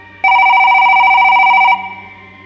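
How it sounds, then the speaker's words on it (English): An old dusty landline telephone in an abandoned house gives one loud, steady electronic ring tone lasting about a second and a half, then cuts off abruptly with a short fading tail, with no one speaking. "Yet, the phone kept ringing."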